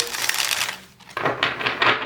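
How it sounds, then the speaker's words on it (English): Tarot cards shuffled by hand for a pick-a-card love reading, close and steady with rapid riffling bursts, a brief pause near the middle, then more vigorous shuffling with no voice. "Let's give it a good few shuffles."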